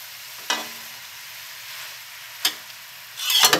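Food sautéing in butter in a pan seasoned with Magic Sarap gives a steady, moderate sizzle, broken by a few brief louder clatters and a busier burst near the end, with no voices.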